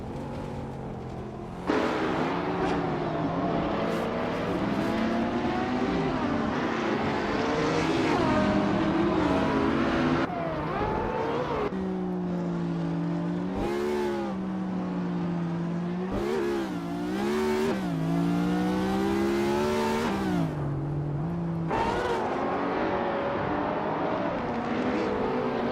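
Race car engines roar continuously through a racing video game, with pitch rising and falling as cars accelerate and shift gears in a steady loud drone, with no talking.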